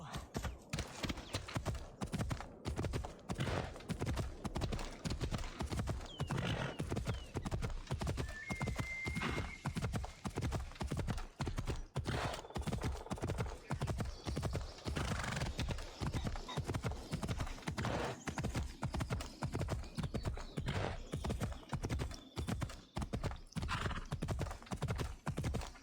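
Rhythmic clip-clop of a horse galloping steadily in Assassin's Creed Odyssey, loud and close throughout, with occasional neighs and a brief voice calling the horse.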